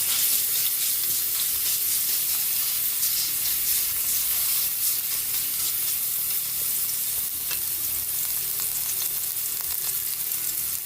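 Garlic sizzles in hot cooking oil for chicken adobo, a steady bright frying hiss with close crackles and occasional stirring scrapes throughout.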